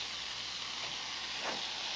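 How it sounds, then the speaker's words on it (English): Steam hissing out of a T-Fal pressure cooker after the jiggle top is removed, a steady, faint breathy rush that swells briefly before continuing on its own. "Either simply remove the jiggle top and let the pressure release."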